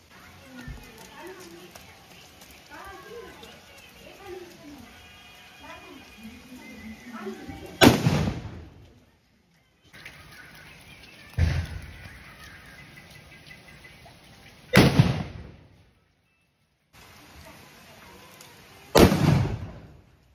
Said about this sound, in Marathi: आबाई बघा बॉम्ब लावते कसा.